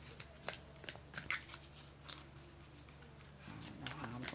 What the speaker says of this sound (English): They're kind of hard to shuffle.